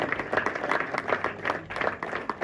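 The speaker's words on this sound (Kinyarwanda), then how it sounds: "Amashyi menshi cyane n'impundu mwa babyeyi mwe" Guests at a wedding ceremony applaud, a scattered burst of clapping from a crowd that is fairly close and moderately loud, with faint voices mixed in.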